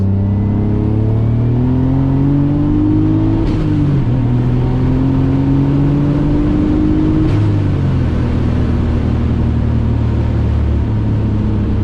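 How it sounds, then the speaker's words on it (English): A 450 HP turbocharged BMW E34 pulls hard at full boost in third gear, its engine note climbing steadily and loud throughout with a brief break near the shift points. "After this curve, I'll jump it down into third, give you guys a full boost pull"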